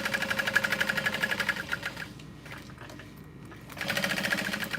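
Sewing machine basting backpack pieces together, a fast rhythmic close chatter that pauses briefly in the middle and then resumes.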